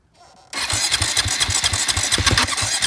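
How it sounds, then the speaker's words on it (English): A Yamaha dirt bike engine starting after a brief faint lead-in, then idling and revving in a loud, rapid, throbbing pulse close by, heard alone without talk. "show us some wheelies, Brad."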